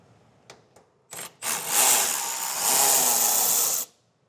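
A 7mm bolt is removed from a 2016 Jeep: a few small clicks lead into a loud, close, continuous whir of a power driver lasting a couple of seconds before stopping abruptly.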